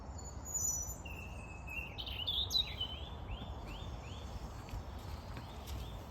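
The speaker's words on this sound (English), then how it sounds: "Sounds a bit like a blackbird." A blackbird sings outdoors, a thin whistled phrase of rising and falling notes, moderately distant over steady wind or traffic rumble, with a few fainter chirps afterward.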